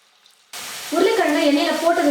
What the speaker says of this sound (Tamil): எண்ணெய் நல்லா காஞ்சதுக்கப்புறமா இப்போது நம்ம ரெடி பண்ணி வச்சுருக்க உருளைக்கிழங்கு இதில் சேர்த்துடலாம்.